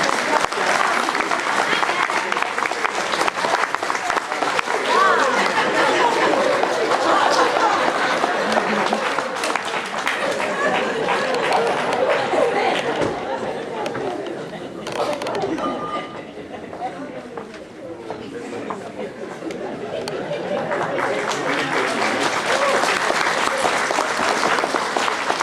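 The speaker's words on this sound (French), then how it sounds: "On l'applaudit, hein?" Studio audience applause on a French comedy entertainment show, a dense, sustained wash of clapping that dips briefly in the middle before swelling again, with voices mixed in.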